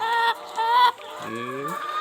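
Hens on an egg farm cluck in short, repeated bursts close by, with a lower drawn-out cackle near the end and no talking.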